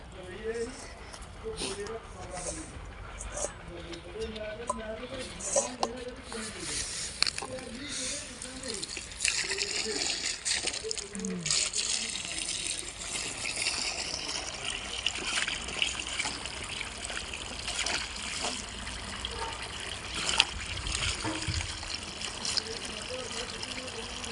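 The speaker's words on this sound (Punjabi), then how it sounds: "ਹੁਣ ਆਪਾਂ ਧੋ ਲੈਨੇ ਆ ਪਾਣੀ ਛੱਡ ਕੇ ਆਵਾਂ" Tap water runs to wash freshly picked lemons at home, a soft continuous trickle and splash heard faintly beneath a person talking throughout.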